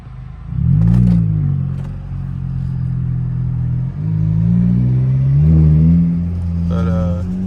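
Dodge Challenger SRT8 engine pulling hard in first gear, a loud deep rumble rising in pitch through the rev range with a brief dip as the throttle shifts, heard from inside the car.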